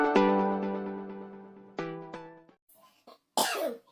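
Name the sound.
cough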